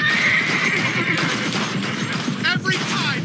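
A horse neighs loudly near the start of gameplay from Blue Estate, a shrill whinny rising over busy game sound effects and someone talking underneath.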